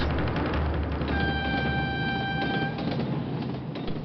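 A train pulls away on a rail line with a steady broadband rumble, and a sustained horn or whistle tone sounds for about two seconds in the middle.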